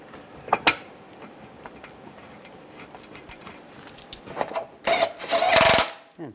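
Metallic clicks and ratcheting as bolts are started by hand on the crankshaft pulley shield of a 2007-2014 Cadillac Escalade 6.2L V8, a few sharp taps early, then louder rattling bursts near the end, close and without talk.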